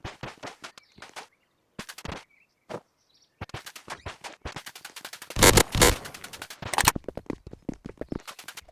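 In the video game A Dusty Trip, gunfire against mutants comes as bursts of rapid sharp shots, some isolated and some in dense volleys, separated by brief silences.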